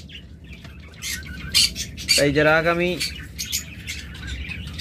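Pet lovebirds and cockatiels chirping and squawking nearby, a burst of harsh rising squawks amid scattered tweets, with someone talking over them.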